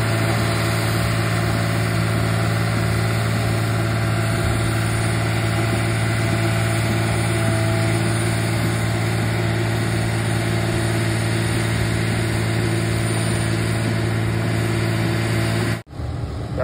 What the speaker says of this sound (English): the old 850J over here, she's pulling her like an absolute champ